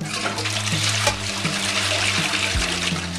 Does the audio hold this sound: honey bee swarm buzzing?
no